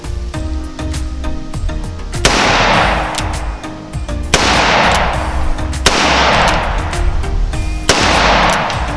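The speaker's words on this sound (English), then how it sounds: "I'm gonna shoot a few, see what happens." Four loud, close gunshots from an Uberti 1873 Cattleman single-action revolver ring out about two seconds apart, each cracking sharply and then echoing away.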